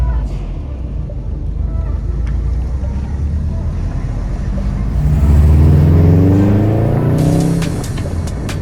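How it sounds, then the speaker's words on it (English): A Subaru Impreza WRX with a flat tyre drives along, its low engine rumble rising and falling with rhythmic juddering and knocking from the wheel, heard close from inside the car. "Sort of like juddering. Knocking. Got a flat tyre without realising."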